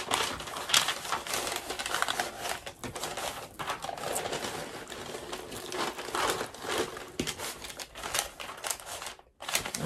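Butcher paper handled and crinkled inside a bag, continuous close crackling and rustling with uneven bursts of louder crinkles and brief pauses, no speech.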